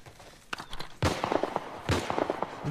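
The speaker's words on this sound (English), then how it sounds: "Oh shit, he's shooting now." Gunfire in The Last of Us Part 1 video game, with several sharp shots cracking in quick succession, two of them louder and fuller, over a quiet game background.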